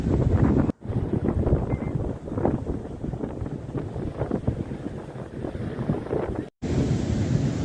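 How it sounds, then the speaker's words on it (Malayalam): Loud, rough sea surf crashes and roars continuously at Varkala beach, with heavy wind buffeting the microphone throughout. "നല്ല കടൽക്ഷോഭമാണ് കേട്ടോ കടൽ നല്ല രീതിക്ക് കയറിയിട്ടുണ്ട്"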